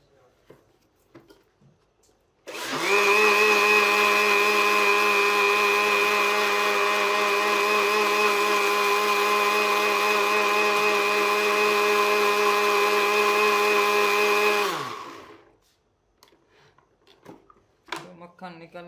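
An electric blender churns butter for homemade desi ghee, a loud, steady motor whir that starts abruptly, holds for about twelve seconds, then winds down, with quiet room noise before and after.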